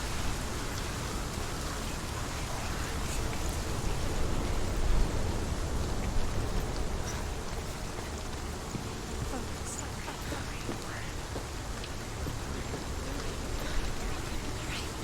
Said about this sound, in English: The rain. The rain.